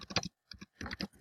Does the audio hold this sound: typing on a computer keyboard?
yes